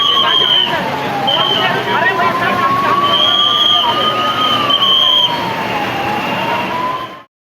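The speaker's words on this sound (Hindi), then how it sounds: "जैसे ही मॉक ड्रिल शुरू हुई और सायरन बजा, वैसे ही पूरे इलाके में एम्बुलेंस और पुलिस की गाड़ियों के सायरन सुनाई देने लगे।" Ambulance and police car sirens wail during a mock drill, one loud siren rising and falling continuously over a second higher tone, with crowd babble underneath before the sound cuts off abruptly.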